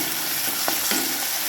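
Tomatoes with salt cooking in a pan, a soft continuous sizzle with a couple of brief scraping stirs near the middle.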